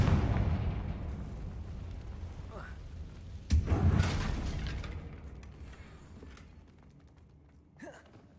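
A Confringo fire spell blasts in Hogwarts Legacy, one sharp booming burst near the middle that rolls off into a rumbling tail, over a dense low game-ambience rumble with a few faint whooshes.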